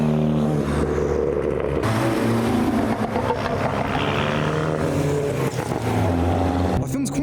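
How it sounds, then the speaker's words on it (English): A loud, noisy modified Audi TT drives past with a strong, steady engine roar that holds for several seconds before easing off near the end. "I filmed quite a few noisy modified TTs on the way, and this is definitely one of them."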